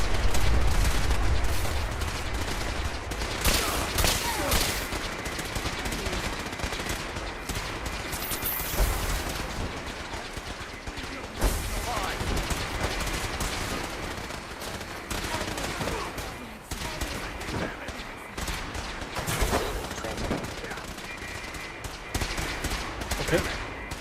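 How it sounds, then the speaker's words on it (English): Rapid bursts of automatic gunfire and scattered single shots crackle through a Fallout 4 firefight, loud and dense throughout, with occasional sharper impacts breaking through the steady barrage. "Where am I getting shot from?"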